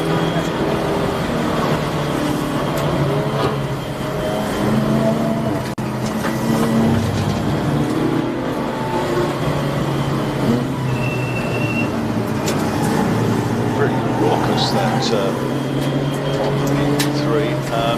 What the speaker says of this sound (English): then it's Hinson, then it's Burton, then it is the number 12 BMW Z Coupe.